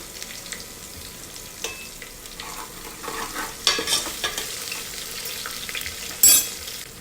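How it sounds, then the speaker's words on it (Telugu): Garam masala frying in oil with ginger-garlic paste and green chillies, a soft close sizzle broken by bursts of stirring and spatula scrapes, ending in a sharp clatter. "ఇప్పుడు నేను ఆయిల్లోనే కొంచెం గరం మసాలా వేసి వేపిస్తాను"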